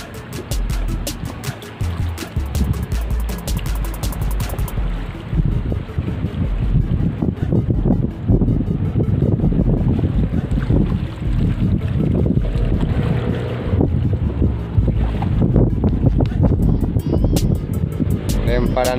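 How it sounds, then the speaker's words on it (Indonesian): Strong wind buffets the microphone on a small fishing boat at sea, a steady loud roar with gusts, while someone talks over it throughout. "Anginnya terlalu besar."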